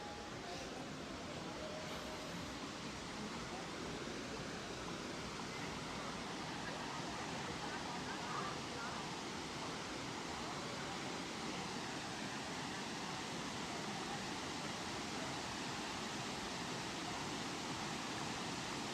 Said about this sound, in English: one of the main attractions of this resort is the waterfall